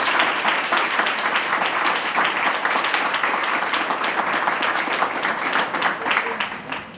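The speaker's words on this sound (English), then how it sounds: "please give them a round of applause" Sustained applause from a crowd fills the room, loud and even throughout, with some voices faintly mixed in.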